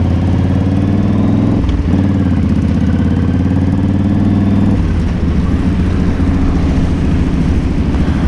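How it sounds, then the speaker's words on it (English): A group of motorcycles on the Boneshaker charity ride, their engines droning loudly and steadily up close as a thick, continuous rumble with shifting throttle, and no voices. "You can't beat riding out with loads of bikes."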